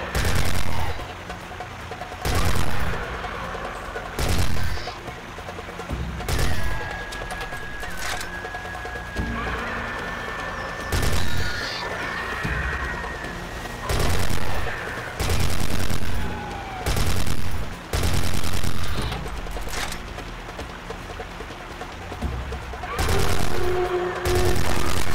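Machine gun bursts in the dinosaur shooting game Dino Strike come as loud, rapid bursts repeating every second or two, with dinosaur shrieks and squeals between them.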